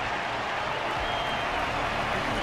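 Steady, dense crowd applause from an arena audience in the video game Honkai: Star Rail, a continuous wash of clapping heard alone.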